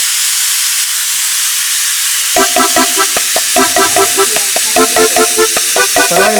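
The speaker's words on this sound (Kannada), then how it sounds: "ಕುಕ್ಕರ್ ಸೌಂಡ್ ಬರುತ್ತೆ" A pressure cooker hisses steam in a loud, continuous rush, joined partway through by a rapid, rhythmic rattling pulse.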